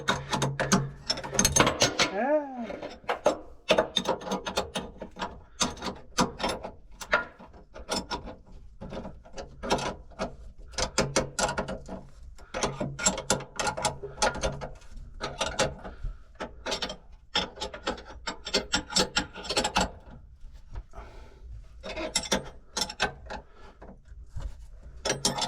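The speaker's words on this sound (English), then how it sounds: "a quick tighten up on the nuts for the rudder" A ratchet wrench tightens the nuts on a boat's rudder, with bursts of rapid clicking and short pauses between strokes, close and fairly loud.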